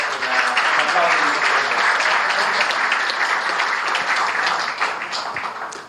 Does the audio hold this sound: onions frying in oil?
no